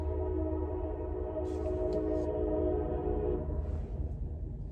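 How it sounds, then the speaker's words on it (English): A train rumbles past close by, a steady low roar with tonal horn-like bands, fading slightly toward the end. "that train should be gone by the time I finish this"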